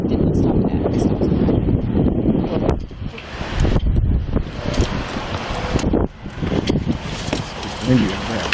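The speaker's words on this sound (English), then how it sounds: "Windy right there. I can hardly hear her." Heavy wind roars and buffets a police dashcam microphone during a roadside traffic stop at night, surging and dipping in gusts, with voices faint beneath the rumble.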